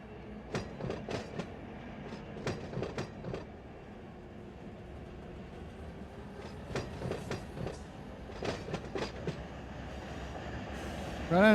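BNSF freight train in the Run 8 train simulator game rolls along with repeated clickety-clack wheel beats in two clusters over a steady rumble, ending on a short squeal.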